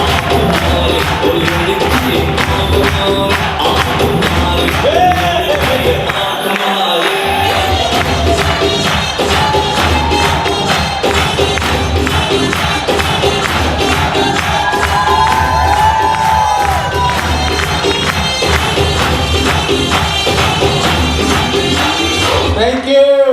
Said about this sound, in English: Can you all start whooping, clapping and cheering, please?